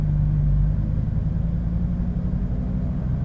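A Lamborghini Huracan Performante drives slowly down a lane of a parking lot, its engine a low, steady rumble close by and fairly loud, with no voices.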